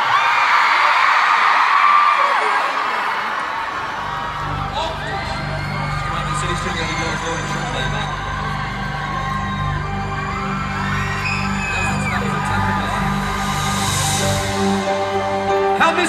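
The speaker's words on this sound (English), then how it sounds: "Give yourselves a round of applause, because you've done very well." A large concert crowd at a show in London cheers, whoops and yells loudly and continuously. Sustained music tones come in beneath the noise partway through, and voices stand out from the mass.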